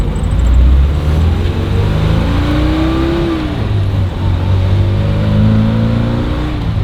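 A BMW 2002's engine drones loudly and continuously from inside the vehicle, its pitch rising and falling as it shifts through gears while driving after a carburetor repair.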